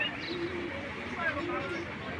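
Two caged-bred pairs of pigeons, black Iranian racers and choco racers, coo softly within a constant murmur of background noise and indistinct voices.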